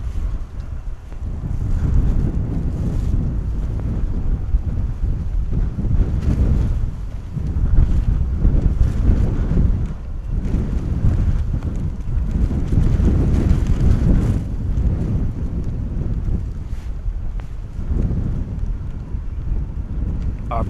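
Strong 35-knot wind at Bristol Airport buffets the microphone in loud, rumbling gusts that surge and ease throughout, with no clear talking.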